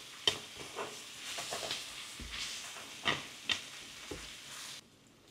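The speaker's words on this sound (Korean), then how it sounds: "맛있게 구워지고 있습니다." LA galbi short ribs sizzle in a frying pan over medium-high heat, a steady close frying hiss with scattered pops and crackles and a few stirring clatters, stopping abruptly near the end.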